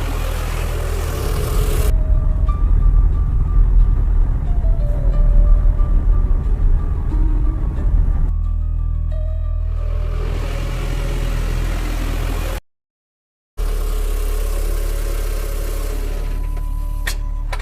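Car engine as a vehicle drives out from a house, a loud low rumble and hum that shifts pitch as it pulls away, with a brief silent gap before the drone resumes; no speech.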